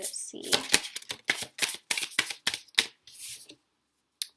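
Astrology cards are shuffled in a rapid series of crisp, close riffling bursts with short pauses between them, stopping near the end, with no talk over them.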